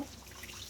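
A little water is poured into ginger, garlic and cumin paste cooking with onions for a fish-head muri ghonto, heard as a brief, faint trickle and splash.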